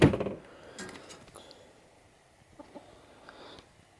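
Backyard hens cluck sporadically around a nesting spot, with a loud burst of squawking at the start followed by scattered short clucks at moderate distance.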